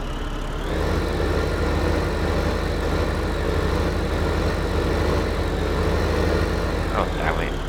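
A tractor engine in the farming game Farming Simulator 15 hums at a steady, loud, low idle throughout, with a brief higher squeal near the end.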